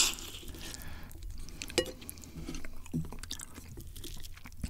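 Someone chews soy sauce marinated shrimp at close range in a mukbang, giving soft wet crunches and bites with occasional sharper clicks and a few quiet smacking sounds, with no talking.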